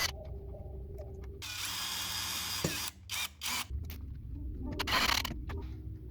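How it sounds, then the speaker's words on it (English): A power screwdriver drives locking tuners into the wooden headstock of a Harley Benton JA baritone guitar, with sustained motor whine broken by short pauses and restarts, close and fairly loud. "And screwing them all securely in place."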